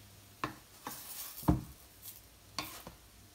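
French toast cooks in a pan: a few separate spatula scrapes and flips, fairly quiet and close, over a faint, thin sizzle.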